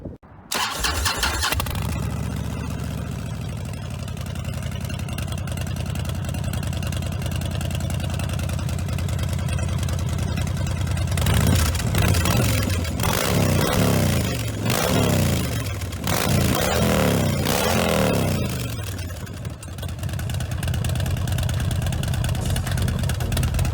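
A 2014 Harley-Davidson Dyna Fat Bob with full custom work cranks and fires, settles into a loud rumbling idle, then revs repeatedly in sharp bursts before dropping back to idle.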